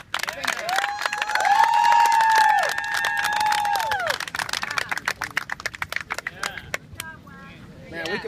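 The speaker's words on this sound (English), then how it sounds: "So you guys deserve a round of applause" A crowd at a talk at Steels camp cheers and whoops loudly, then breaks into scattered clapping that thins out toward the end, with voices mixed in throughout.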